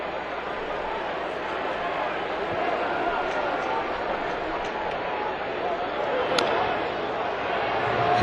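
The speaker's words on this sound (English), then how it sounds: "Rodriguez getting booed when he gets up there." A large crowd at a 2007 White Sox home game keeps up a steady, broad roar while Alex Rodriguez comes to bat, likely booing him. A sustained wall of noise with a voice talking over it.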